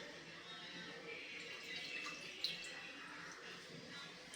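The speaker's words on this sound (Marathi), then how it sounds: "आता थोडंसं पाणी घालून एक दोन वेळेस साधारण हे स्वच्छ धुवून घेऊयात" Faint water sloshing and dripping close by as flattened rice (poha) is rinsed, a soft steady wash with a small splash partway through, no voices.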